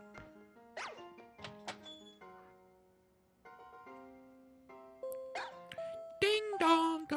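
A school announcement chime in the video game Pokemon Violet, a soft melodic series of bell-like tones over quiet game music, followed by brighter chiming notes near the end.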